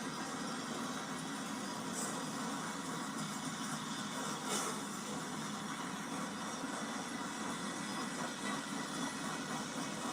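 Freight train with distributed power locomotives, a steady low engine drone and rumbling rail noise heard from a distance, continuous throughout with no talk.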